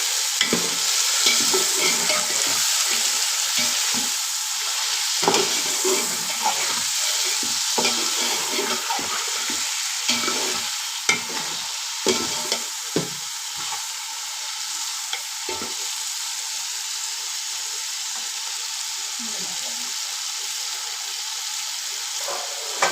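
Chopped tomatoes sizzle steadily in a hot pan for chicken biryani while a utensil stirs and scrapes through them, close up, with no talking.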